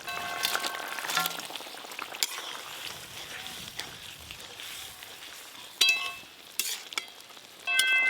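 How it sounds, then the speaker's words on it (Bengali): Fried bhorkol fish pieces go into boiling gravy in a pan, giving a bright crackling sizzle with several sharp bursts and splashes as each piece drops in, fairly quiet overall. "ভেজে রাখা মাছগুলো দিয়ে দেব"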